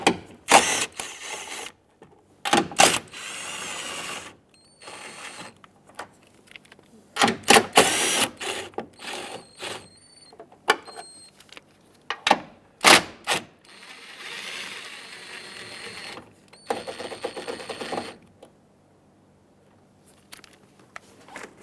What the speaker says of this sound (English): Use an 11mm socket and remove all of them.